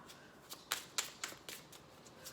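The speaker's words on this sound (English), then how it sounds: "let me go ahead and throw some cards down for Scorpio" Cards from a Moon Crystal Tarot deck are laid down one after another, about seven soft, faint slaps and flicks in an uneven rhythm in a quiet room.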